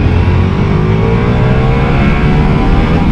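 Ducati Multistrada V4S motorcycle engine revving hard in sport mode, a loud, steady, close roar with rising harmonic whine throughout, no voices.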